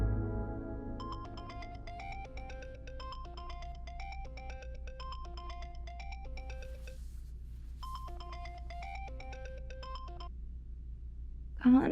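A mobile phone ringtone plays as a repeating melodic pattern for several seconds, pausing briefly and then starting again, fairly loud and steady over a low indoor hum, in a domestic drama scene.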